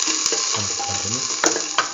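Shallots frying in a hot pan make a loud, dense sizzle with brief utensil clicks and stirring scrapes breaking through the steady crackle.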